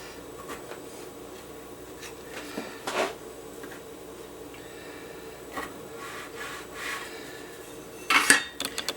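A simple board scraper works vegan pina colada scone dough on a board, making soft scraping and rubbing strokes with occasional sharper clicks and taps, plus a brief busier clatter near the end, and no talk.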